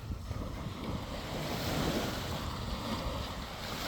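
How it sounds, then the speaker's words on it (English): Rough ocean waves churn loudly and continuously, mixed with heavy wind noise on the microphone, no voices heard. "These waves are a little much."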